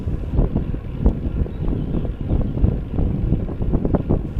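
Strong wind gusts batter the microphone on a quiet mountain road in the Pyrenees, roaring and buffeting in irregular loud bursts throughout.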